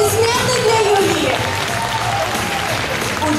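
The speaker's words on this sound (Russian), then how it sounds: "Аплодисменты для Юлии!" An audience at a children's beauty pageant applauds steadily and loudly for about three seconds, with dense continuous clapping from a crowd and a faint voice over a speaker system underneath.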